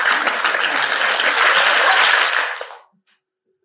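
A class of schoolchildren claps together in a dense burst of applause lasting over two seconds, then stops abruptly into silence.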